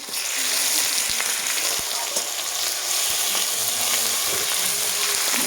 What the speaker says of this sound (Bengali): এই রসুন বাটা দিয়ে দিলাম।